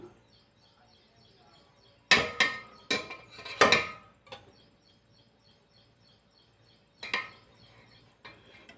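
A container of strained ghee residue being covered with its lid and handled, making a few sharp clattering knocks in two bursts close by. The background is otherwise quiet.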